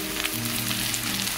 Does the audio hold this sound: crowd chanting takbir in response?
no